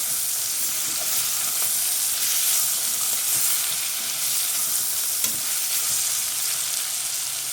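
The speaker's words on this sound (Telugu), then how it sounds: "ఇది కొంచెం పచ్చివాసన పోయేదాకా ఫ్రై చేసుకోవాలి." Onions fry in a pan for country chicken pulao, giving a steady loud sizzle with occasional stirring scrapes and no talking.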